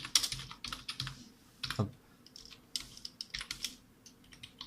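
Rapid bursts of keystrokes on a computer keyboard, irregular clusters of clicks and taps entering text up close, with a brief spoken word in the middle.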